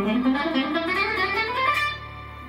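Electric guitar picked with a rounded-edge Dunlop pick held at a relaxed angle, a short run of sustained notes ringing out clearly and close, alone for a couple of seconds before fading.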